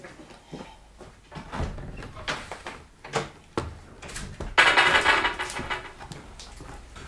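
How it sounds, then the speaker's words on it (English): A door is worked open in a workshop area, giving a run of wooden knocks, clunks and scrapes followed by a louder rattling, sliding burst near the end, all close and without talk. "Just gotta open this door."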